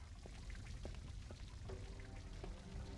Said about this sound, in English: Can we put the water down the hole to lift the gear up?